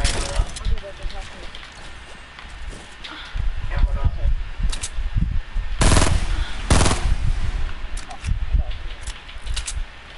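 Rapid bursts of gunfire ring out in a Fortnite match, sharp cracks over a rustling outdoor bed, with two loud volleys near the middle and scattered softer shots around them.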